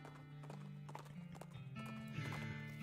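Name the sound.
horse hooves clip-clopping in the video game West of Loathing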